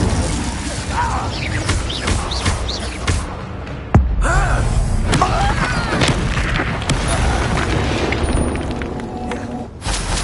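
Spellcasting and combat in the Hogwarts Legacy video game, an Incendio fire spell among crackling, clattering effects with a sharp burst near the middle, all over a dense, continuous game soundtrack.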